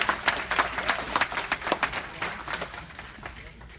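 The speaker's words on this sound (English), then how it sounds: "Clap for that," Scattered applause from an audience at a financial empowerment event in Atlanta, fairly faint and uneven, with individual claps standing out over crowd murmur.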